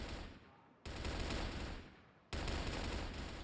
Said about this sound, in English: Shots here through the window.